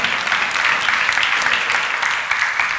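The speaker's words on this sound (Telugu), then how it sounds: "కొట్టండి చప్పట్లో" Audience applause at a live Christian Mother's Day program, a steady, dense wash of many hands clapping close and loud without pause.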